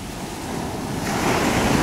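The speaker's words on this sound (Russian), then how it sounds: "Забывайте о том, что волны очень сильные." Sea waves surge onto a beach in Alanya, Turkey, on a stormy September day, a continuous roar of surf that swells louder as a wave breaks, with wind noise on the microphone.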